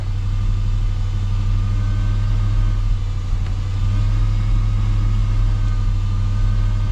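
A Honda Civic Del Sol engine runs at a steady 1500 RPM, heard as a loud, close, continuous low hum and drone with no change in pitch and no talking.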